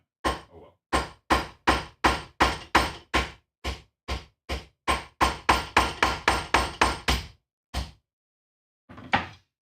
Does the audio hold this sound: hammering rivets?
yes